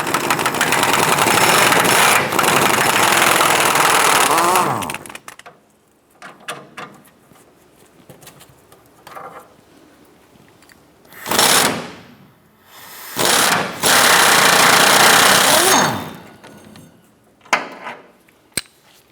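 Ratchet wrench with a 13mm socket and extension removing shock mount bolts on a 1994-2004 Chevrolet S10, close buzzing ratcheting runs broken by pauses, a long opening burst and two shorter bursts later, with small clicks between.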